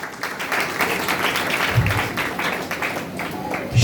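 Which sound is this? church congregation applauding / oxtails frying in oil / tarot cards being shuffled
church congregation applauding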